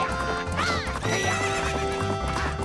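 A horse gallops in The Legend of Zelda: Majora's Mask during the Gorman race, hooves clip-clopping rhythmically under game music, with a whinny mixed in.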